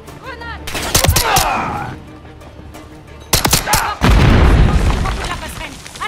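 A grenade blast and bursts of gunfire in the Call of Duty Modern Warfare 3 video game, loud sharp cracks early on, then a heavy booming explosion that rumbles and fades, with a voice calling out over the action.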